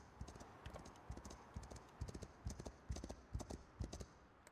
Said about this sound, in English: I hear the horses.